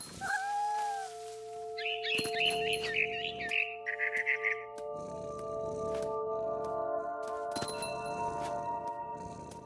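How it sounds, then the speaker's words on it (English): Small bird chirps from a barn swallow in the video game What Remains of Edith Finch, short bright tweets near the start over steady ambient game tones, followed by soft cat-like vocal sounds and quiet clatter. "Then I heard chirping outside my window. It was a barn swallow going back to her nest."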